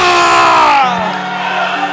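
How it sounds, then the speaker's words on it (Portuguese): A church congregation at a night vigil service in Botucatu, Brazil lets out loud shouts of glory, a crowd of raised voices that peaks and then trails into sustained calls. "levante a tua mão e dê um grito de glória"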